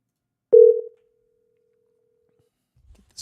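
A single short telephone tone rings out clearly at about 400 Hz as a call is placed, then sustains faintly for a couple of seconds before dying away into near silence.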